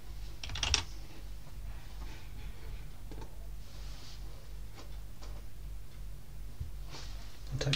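Keystrokes on a computer keyboard typing a command into a terminal, soft scattered clicks in short irregular bursts, close and fairly quiet with no talk.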